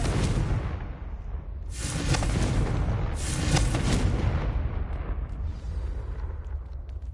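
Confringo explosion spells going off in Hogwarts Legacy, a roaring burst of blasts that swells twice in loud waves and then fades into a lingering rumble.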